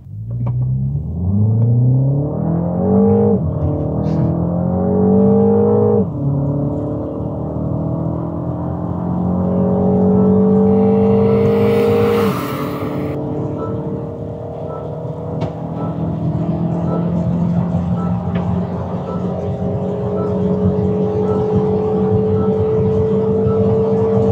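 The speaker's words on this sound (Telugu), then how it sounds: "ఒకసారి మనం లాంచ్ చేద్దాం కార్ని." A 2025 Mini Cooper S JCW launching in go-kart mode, the engine roaring loud and close as revs climb through several gear changes, pitch sweeping up, dropping and rising again, with a brief hiss midway.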